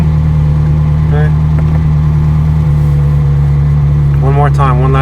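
A manual-transmission car engine hums steadily as the clutch is let out and the car rolls, a constant mid-pitched drone with a faint voice briefly heard over it.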